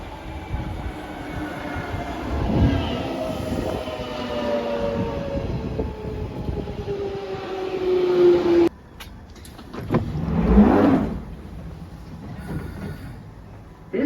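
A London Underground Jubilee line train pulls into Queensbury station, its whining electric motors descending in pitch over rumbling wheels, then doors and station noise follow after it stops.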